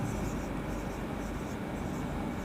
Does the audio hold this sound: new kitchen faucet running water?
no